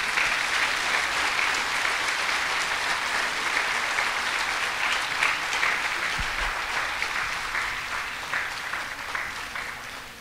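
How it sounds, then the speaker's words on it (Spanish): Loud, sustained applause from a church congregation honoring Jesus fills the whole stretch, a dense steady clapping that stays strong throughout and fades slightly toward the end, with no voices over it. "Un aplauso a Jesús fuerte"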